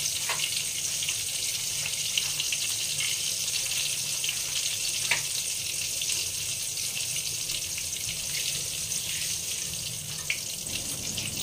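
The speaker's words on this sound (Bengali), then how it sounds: "এবারে পটলটা ভাজা হয়ে গেল, ভেজে তুলে নিলাম।" Pointed gourd frying in oil gives a steady hissing sizzle with faint pops and clicks, constant and moderately quiet throughout.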